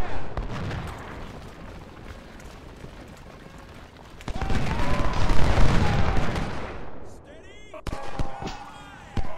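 Cannon and musket fire in the Civil War strategy game Ultimate General: Civil War, with volleys and heavy booms swelling midway over a background din, then a sharp later burst.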